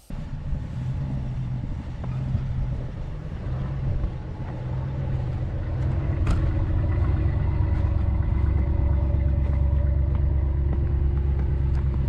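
RAM 1500 4x4 pickup with an open differential revving its engine in snow while one wheel spins freely, a loud steady rumble that swells and holds, close and with no talking.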